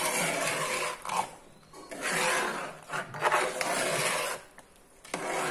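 A thick banana and jaggery mixture is stirred in a pan over low heat, giving close scraping and rubbing strokes in uneven bursts with short pauses between them.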